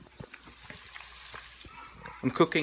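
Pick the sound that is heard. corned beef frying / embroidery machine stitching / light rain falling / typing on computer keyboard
corned beef frying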